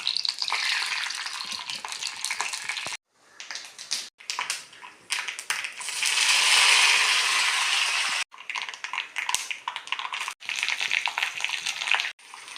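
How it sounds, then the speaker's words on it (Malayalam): Mustard seeds splutter and crackle in hot coconut oil, a loud, dense sizzle of rapid pops that breaks off sharply several times and then resumes. "വെളിച്ചെണ്ണ നന്നായിട്ട് ചൂടായ ശേഷം കുറച്ച് കടുക് നമുക്കിട്ട് കൊടുക്കാവുന്നതാണ്"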